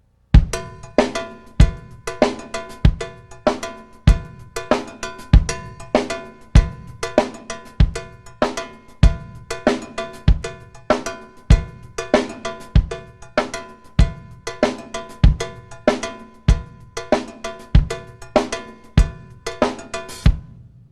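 A drummer plays a funk drum groove, the right hand on a cowbell and the left hand on hi-hat and snare, a loud, tight, busy pattern of bright metallic cowbell strokes and crisp snare hits repeating steadily without talk.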